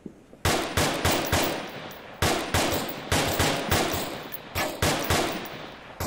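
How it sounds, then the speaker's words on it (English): Gunfire in the VR shooter Onward, several loud close rifle shots in irregular bursts with short reverberant tails, no talking. "Did we open fire? Fire."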